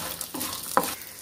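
Ginger and roasted gram sauté in a pan for a Chettinad egg drop curry, a soft sizzle with the scrape of stirring and one sharp clink of the spoon against the pan.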